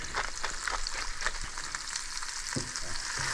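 Peppers and onions fry in a pan with a steady close sizzle and crackle, broken by a few soft stirring knocks, no voices.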